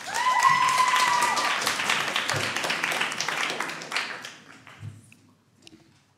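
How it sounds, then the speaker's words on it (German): Audience applause for a student speaker at a 2017 youth speech competition, a dense burst of clapping that gradually thins and fades out over several seconds. "Einen Applaus nochmal für dich"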